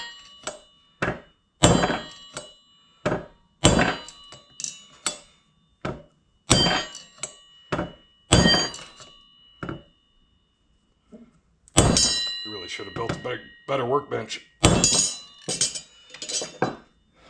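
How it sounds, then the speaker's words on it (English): A hammer taps a ringing front brake rotor on a Honda 350X during a front hub bearing replacement, giving irregular bursts of sharp metallic clinks that ring on. Someone speaks briefly between the taps. "the brake rotor. Every time I tap on it, that thing just starts singing."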